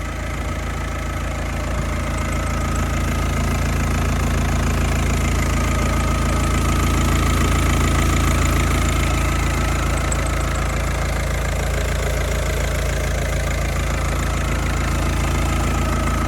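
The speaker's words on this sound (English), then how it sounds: "Car's running on tick over." A 2005 VW Passat Highline with a 1.9 TDI PD130 diesel engine idles steadily, a continuous close rumble with a faint rhythmic diesel clatter and no talking.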